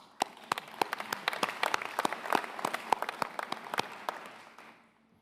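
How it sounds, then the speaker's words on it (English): A room full of people clapping at an awards luncheon, steady scattered hand claps building into moderate applause for several seconds, then quickly fading out. "Please give yourself a round of applause."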